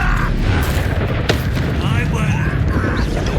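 A spell explosion from Bombarda in Hogwarts Legacy, a sharp burst within a loud, busy combat scene full of booms and impacts, with a voice calling out over it.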